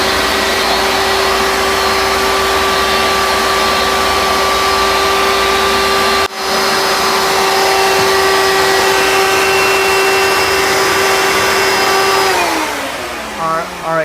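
A refrigerator unit runs with a steady, loud motor hum and a whining tonal drone, broken by one brief click midway, before the tone winds down near the end.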